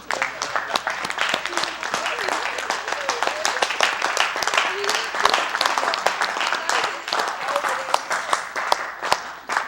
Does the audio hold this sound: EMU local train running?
no